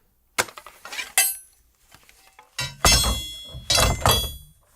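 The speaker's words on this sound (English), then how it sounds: "can you cue me up for this sword off the back here?" Foley for a sword pulled off a character's back in God of War: a few sharp metallic clanks and scraping thunks, close and distinct, separated by quiet gaps, building to heavier ringing impacts near the end.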